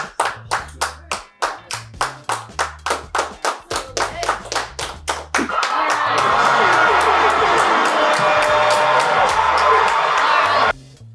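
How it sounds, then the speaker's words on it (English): A studio audience first claps in a slow, even rhythm, with a low beat underneath, before breaking into loud, sustained applause mixed with cheers and whoops. The applause holds strong for several seconds, then cuts off abruptly. "a round of applause for our very own Andy Rooney"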